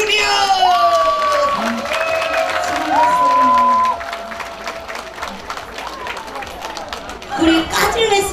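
Festival crowd at an outdoor stage cheering and clapping as a performer comes out, loud whistling and shouts over mixed applause and chatter, with a voice speaking near the end.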